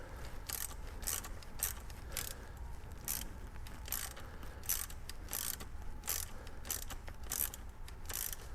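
A hose clamp being tightened by hand onto a rubber air filter inlet on a Cub Cadet diesel garden tractor, producing a steady run of close, repeated ratcheting clicks throughout.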